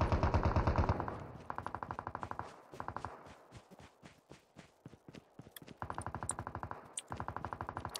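Automatic gunfire in the Call of Duty video game: rapid bursts of machine-gun fire alternating with single sharp shots, loud and close, with brief pauses between volleys.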